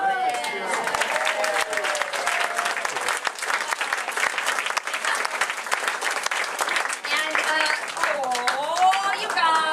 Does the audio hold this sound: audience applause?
yes